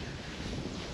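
Wind blows across a riverbank during shore fishing beside a current, a loud, continuous broadband rush buffeting the microphone with no clear pauses.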